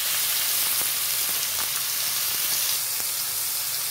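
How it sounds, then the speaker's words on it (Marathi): Onions just added to a pan of hot oil with bay leaves, sizzling and frying in a steady, close hiss with faint crackles throughout, no talking. "आता हा कांदा आपण टाकलेला आहे, हा थोडासा गुलाबी होईपर्यंत परतायचा आहे"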